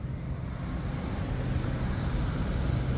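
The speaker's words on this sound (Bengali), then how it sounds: "প্রচুর বাতাস, প্রচুর বৃষ্টি।" A strong wind and hail storm in Dubai makes a continuous, loud low roar and rumble, close and unbroken for three seconds, with no speech.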